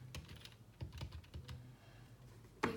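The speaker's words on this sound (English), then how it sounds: "I've got a physical keyboard, and type in my message" Fingers tap on a physical computer keyboard in a quick, uneven run of close, crisp keystrokes, ending in one louder clack.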